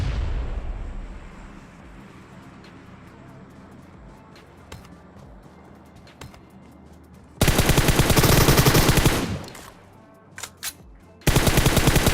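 Rapid automatic gunfire in the shooter game PUBG Mobile comes in two loud, dense bursts, a long one and then a short one, after a stretch of quieter ambient game sound with scattered faint shots.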